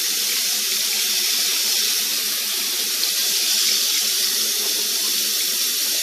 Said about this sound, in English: I get the water in a bottle. And it's gotta be warm water.